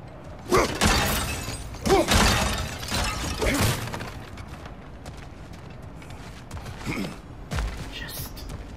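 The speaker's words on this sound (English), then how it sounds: "back to smashing through things for fun and profit" Repeated loud crashes and shattering bursts as objects are smashed in the God of War Ragnarök video game, several heavy impacts in a row, then quieter clatters and a few later hits.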